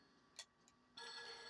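An in-game telephone rings in the horror video game Fatal Frame III, with a short bright ring burst, a fainter blip, then a sustained loud ringing that continues to the end.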